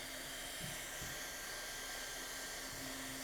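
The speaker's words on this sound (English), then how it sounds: "I'm doing a 2-pass weld." A hot air welder blows steadily along a TPO roofing membrane seam during a two-pass weld, making a constant close hiss and whine without a break.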